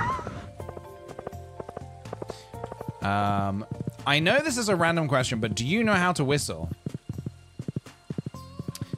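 Horse hooves clip-clop in Stardew Valley, a steady patter of footfalls running through the scene while a person talks over them and game tones sound in the background.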